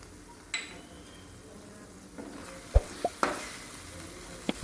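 Pasta is stirred in a pan with turmeric and Maggi masala, a soft scraping sizzle punctuated by a few sharp clicks and taps of the spoon against the pan, fairly quiet with no talking.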